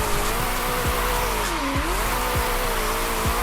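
A car in the racing game Forza Horizon 5, driven with a Logitech G920 wheel and no e-brake, drifts and spins out. The engine drones and rises while the tires squeal and skid in repeated sweeps.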